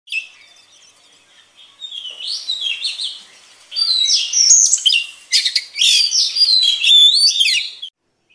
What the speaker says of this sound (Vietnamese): em đang mở cái tiếng chim chè than trống nó hót lên để cho kích cái con than này